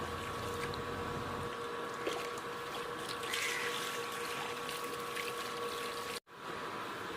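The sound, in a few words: water pouring while washing fish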